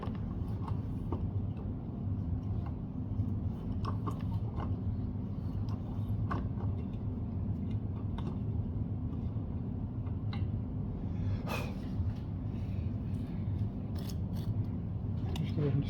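Faint, irregular clicking and scraping of a die stock cutting thread on a stud during a Farmall H radiator repair, small metallic ticks scattered over a low, steady background hum.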